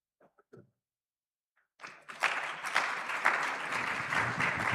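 Audience applause for Mohammed at an African summit conference, a steady mass of clapping that rises suddenly after a couple of faint knocks and then holds at a moderate, even level.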